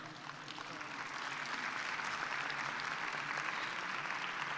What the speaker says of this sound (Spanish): Merecen nuestros panelistas un gran aplauso